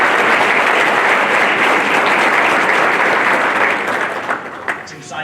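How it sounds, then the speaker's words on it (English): A middle school audience applauds honor society students at a National Junior Honor Society induction, a loud, dense, steady clapping that thins out and trails off in scattered claps near the end. "How about one more round of applause for these wonderful kids?"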